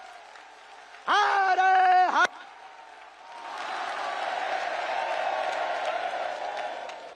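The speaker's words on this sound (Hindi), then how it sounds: "जोरदार ताली बजा करके हम सब पूरा बागेश्वर परिवार स्वागत करें" At a large public event in Madhya Pradesh welcoming the Prime Minister, a voice gives a loud, brief chant, then a big crowd breaks into sustained applause that swells and holds steady for several seconds.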